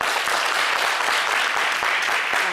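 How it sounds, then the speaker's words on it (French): Studio audience of women at a French-language TV talk show applauding, a dense, steady wash of clapping that fills the whole stretch without pause, fairly loud and close. "on va demander qu'aux femmes, uniquement aux femmes d'applaudir"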